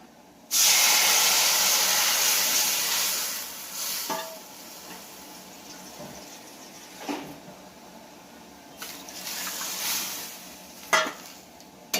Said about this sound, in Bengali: ডালটা ভাজা হয়ে গেছে, এবার জল দিয়ে দেব।